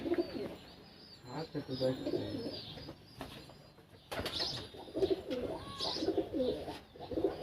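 Pigeons in a keeper's loft coo in repeated rolling phrases close by, with wing flutters and faint chirps mixed in, and people talk softly in the background.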